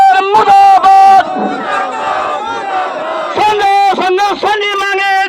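A loud protest crowd at a nationwide strike in Sirsa chants slogans against the Haryana government in rhythmic call-and-response bursts. Sustained crowd noise continues between the shouts.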